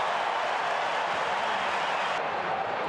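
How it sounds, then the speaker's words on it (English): Stadium crowd at an Australian football match between Adelaide Crows and West Coast Eagles, a dense continuous roar of cheering that holds loud and steady throughout. "Crowd urging him to go as quick as he can."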